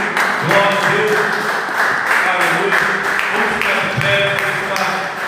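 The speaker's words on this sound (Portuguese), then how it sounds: "Que você possa aplaudir ao Senhor." A church congregation applauds together, a steady, dense wash of clapping that lasts throughout, with voices and sustained tones blending underneath.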